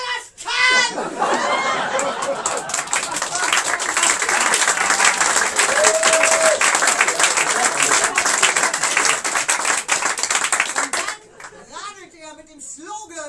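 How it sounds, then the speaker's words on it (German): A loud, sustained burst of crowd applause at a live show, dense clapping mixed with cheering and chatter for about ten seconds before it dies away and a voice speaks. "Applaus"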